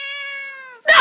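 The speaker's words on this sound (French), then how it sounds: "Si tu miaules," A cat gives one long, clear, tonal meow held for most of a second, close and loud, followed by a sharp burst of broadband noise.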